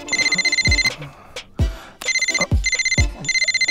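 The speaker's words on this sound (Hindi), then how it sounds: "कीदा फोन है?" A phone ringtone chirps in repeated electronic bursts, loud and near, with brief gaps and a few soft knocks between rings.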